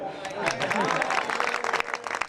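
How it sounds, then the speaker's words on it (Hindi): An audience at a Hindi kavi sammelan poetry recital breaks into brief, lively applause, mixed with crowd voices and possible cheering, before it quickly fades. "तालियां बजाओ"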